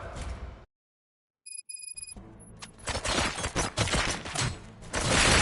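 Gunfire in the video game RoboCop: Rogue City, a dense, loud burst of rapid shots and impacts following a brief silence and a few electronic beeps, with heavy rumbling crashes continuing to the end.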